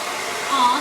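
A hair dryer blows over wet craft paint, a steady airy whir that holds for under a second and swells slightly toward the end.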